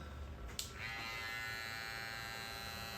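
An Andis FX Pro hair clipper buzzes steadily and close at hand through a mid fade haircut, with one brief click near the start and no talking.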